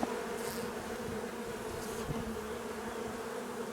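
Honey bees in a small nucleus hive full of honey give off a steady, even buzzing hum, close and continuous throughout, with no talk.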